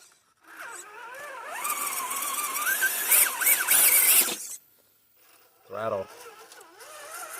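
A Traxxas TF2 RC truck on 3S power whines as its motor throttles hard over a massive tree root, a loud rising and falling squeal for several seconds, then a brief second burst.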